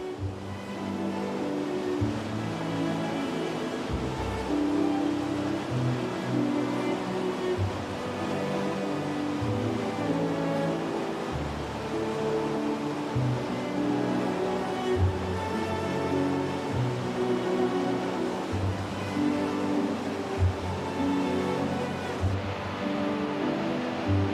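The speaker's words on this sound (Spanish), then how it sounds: "El agua cae desde 33 metros a través de una serie de cascadas" A tall waterfall dropping about 33 metres through a series of cascades in a narrow, steep-walled gorge in Norway: a continuous loud, dense roar of rushing water, steady throughout with no voices.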